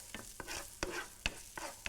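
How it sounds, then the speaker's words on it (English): Onions sizzle in a hot pan, with quick taps and scrapes of a utensil stirring them at an uneven rhythm. "Drop in some onions, just give them very quick sizzle."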